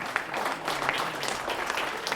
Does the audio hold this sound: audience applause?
yes